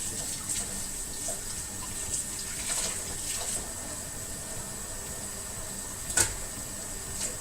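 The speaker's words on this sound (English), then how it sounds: "You're just going to rinse it out really nice and good" Tap water running steadily over a raw pork chop being rinsed in a sink, a soft continuous splash with a few brief louder spatters, no talking.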